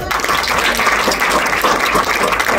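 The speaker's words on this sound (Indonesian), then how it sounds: "Tepuk tangan dulu." An audience claps steadily in sustained applause, a dense wash of many hands lasting a few seconds with no talking over it.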